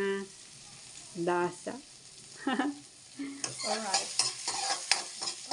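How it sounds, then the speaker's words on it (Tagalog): Fish and garlic fry in a pan, a steady sizzle with stirring clatter that grows busier partway through, while someone talks over it. "Doon na tayo nag-isa sa ating prito ng isda."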